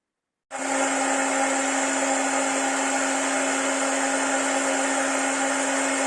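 A CleanMaxx ironing machine switches on abruptly and runs with an even, droning motor hum and airy whoosh, loud and close, unchanged to the end with no voices.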